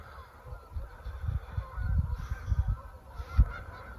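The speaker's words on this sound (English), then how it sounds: "It's geese across the river in that direction." Geese honk from across a river, a flurry of loud overlapping calls at moderate distance with some ducks unsettled nearby, no talk over them.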